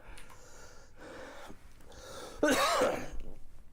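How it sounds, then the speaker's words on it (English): A sharp, explosive sneeze bursts out after a few breathy inhales and gasps, close and loud. "You're gonna sneeze. You're gonna sneeze."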